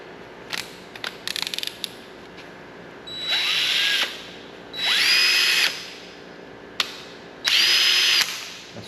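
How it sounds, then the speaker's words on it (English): A power drill whirs in several separate bursts, each revving up and winding down, with a few short clicks and taps between runs. "I don't know how much RPM this drill has."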